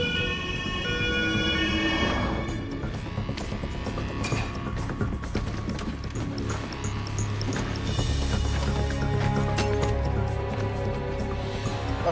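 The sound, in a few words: ambulance siren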